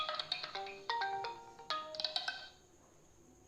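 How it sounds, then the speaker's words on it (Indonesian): A mobile phone ringtone plays a bright electronic melody of short, stepped tones in quick repeated phrases, moderately near, then fades into quiet room noise. "dari tadi bunyi terus teleponnya"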